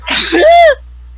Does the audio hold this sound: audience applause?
no